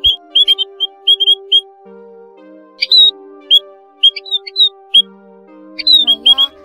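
A recorded call of the Áo Già Đầu Bạc bird, used as a trapping lure, repeats as short, sharp, high whistled chirps in quick bursts and clusters, loud and close against a faint steady hum.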